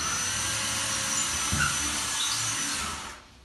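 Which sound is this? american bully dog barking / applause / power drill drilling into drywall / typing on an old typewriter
power drill drilling into drywall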